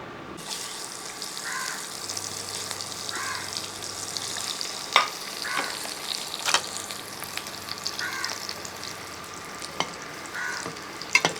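Bread and egg snack frying in hot oil, a steady close sizzle with light stirring and occasional sharp clinks of a utensil, no voices.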